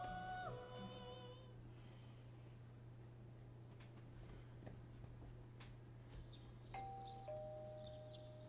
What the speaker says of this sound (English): You hear the doorbell ringing too.